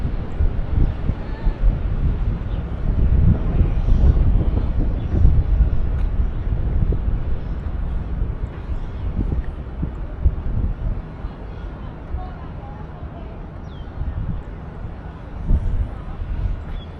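Strong wind buffets the microphone outdoors at a site in Taiwan, a loud continuous rumbling roar with gusting surges throughout.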